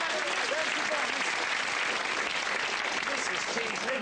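A game show studio audience claps loudly and continuously at a British TV quiz, a dense even wash of applause with a host's voice faintly threaded underneath.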